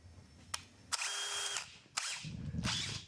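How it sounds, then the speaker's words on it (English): A power drill drills a pilot hole in a few close, loud bursts: a brief blip, then a sustained whining run, then shorter pulses with a rattly tail. No voices are heard. "Drill pilot hole first."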